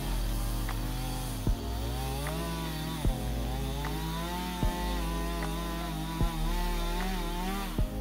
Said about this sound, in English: I use this chainsaw just to take off the top, and then I'm going to use a stump remover to take out the rest.